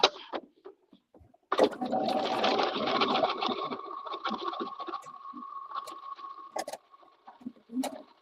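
A sewing machine quilting fabric runs in a steady whirring stretch after a quiet start, preceded and followed by small clicks and handling noises close by.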